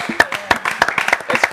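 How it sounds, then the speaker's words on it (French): Studio audience at a French television show applauding in short irregular bursts of claps, close and moderately loud, with voices mixed in. "Est-ce qu'on peut applaudir pendant qu'elle écrit?"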